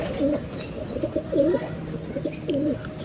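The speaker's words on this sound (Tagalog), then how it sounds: "Yung mga ibon ng kapitbahay" Neighbouring pigeons cooing close by in soft repeated rolling coos, several calls in quick succession with a faint chirp in the background, no one speaking.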